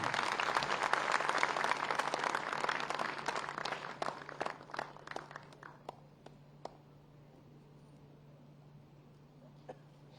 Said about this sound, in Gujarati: ખૂબ બધી તાળીઓનો ગડગડાટ થઈ જાય